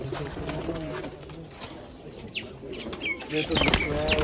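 Sialkoti rooftop-loft pigeons with white tails, adults and young, coo softly close by with a brief flutter of wings, while someone talks over them.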